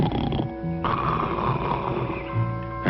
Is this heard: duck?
no